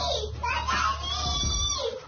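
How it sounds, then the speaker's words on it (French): Young children scream loudly at home, shrill overlapping shrieks and cries close to the mic, with some child speech mixed in. "C'est pas innocent si les enfants hurlent aussi"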